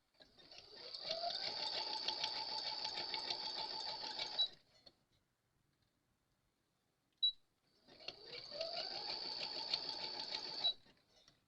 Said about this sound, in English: And I'm going to stitch this on. Got me a zigzag stitch going on right there.